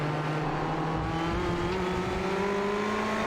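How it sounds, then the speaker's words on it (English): GT race cars accelerate along the straightaway at Road Atlanta, engines climbing steadily in pitch as they pull from about 80 to over 130 mph, a continuous loud drone with no talk. "You can hear those engines as they go back up from as low as 80 miles per hour back above 130 down the middle of the straightaway"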